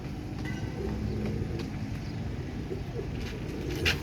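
Royal Teddy pigeons cooing softly in a loft, low murmuring coos over steady background noise with a brief brighter sound near the end, no talking.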